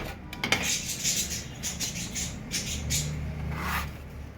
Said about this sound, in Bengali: এবার এইরকম একটা স্টিলের পাত্তি টাইপের আমি নেব তো ওইটা দিয়ে এইভাবে আমি চেপে চেপে দু সাইডে